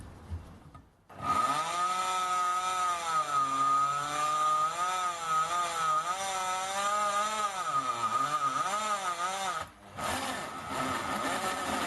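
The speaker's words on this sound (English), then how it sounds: "let's try the same thing with the core drill." A core drill bit boring into metal with a stepped-bit comparison in progress, giving a loud sustained whining screech that wavers in pitch, stops abruptly, then resumes for a short burst.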